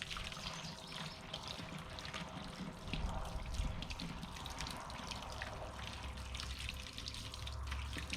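Hot water runs indoors to fill a container for mixing a gas-tank coating kit, a continuous, fairly soft stream of pouring and splashing that holds steady throughout.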